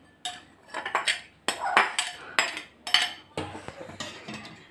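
A metal spoon clinks and scrapes against a cooking pot as tender coconut pieces are added to Kerala payasam, a series of close, sharp, irregular knocks and rattles separated by brief quiet gaps.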